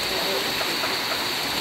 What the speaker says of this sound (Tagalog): naabutan tayo ng ulan